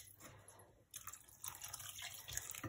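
Water poured into a pot of simmering onion soup, a faint splashing trickle that starts partway through and continues in short bursts.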